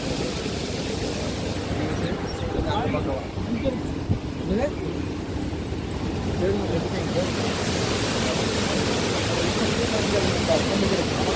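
Water pours from the raised spillway shutters of the Mullaperiyar dam into the Periyar river, a steady broadband roar of rushing flow that continues unbroken and fairly loud throughout.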